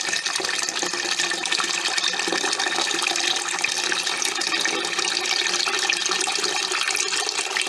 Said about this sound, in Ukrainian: Виливаємо цю воду, вона вже не потрібна.